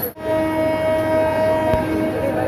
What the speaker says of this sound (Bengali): মহানগর এক্সপ্রেস ট্রেনটি ঢাকা কমলাপুর রেল স্টেশন থেকে রাত 9:23 ছেড়ে যাচ্ছে